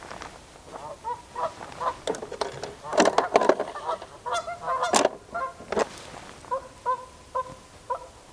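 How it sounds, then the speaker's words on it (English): Geese honk repeatedly near a winter river, a loose chorus of loud nasal calls in irregular bursts, some overlapping, with brief quieter pauses between them. "The geese are giving us a nice little tune over there."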